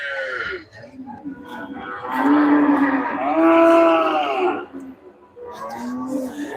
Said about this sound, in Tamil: பாருங்க சூப்பர் காளை கன்றுகள்